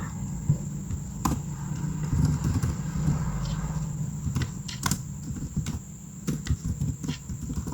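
Fingers type commands for Cisco switch port security configuration on a computer keyboard, a close, uneven patter of key clicks with a few sharper strikes over a low steady background hum.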